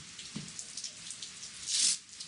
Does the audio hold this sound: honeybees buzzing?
no